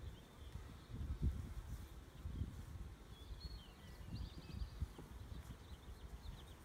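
Honeybees in a queen castle hive split, drawing out fresh comb, give a steady low hum with faint higher buzzing and soft rustling of frames being handled, close by and without talk.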